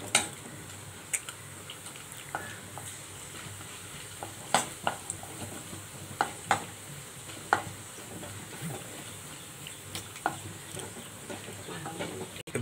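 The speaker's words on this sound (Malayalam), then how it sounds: "നമുക്കിനി അണ്ടിപ്പരിപ്പൊന്ന് ഫ്രൈ ചെയ്തെടുക്കാം." Cashew nuts frying in a pan while chicken biryani is cooked: a steady soft sizzle under scattered sharp clicks and taps from stirring, fairly quiet and close.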